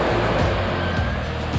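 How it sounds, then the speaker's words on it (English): Big ocean waves on a beach, a loud continuous wash of surf with heavy low rumble and a few swelling surges, close and steady. "The waves are really big today."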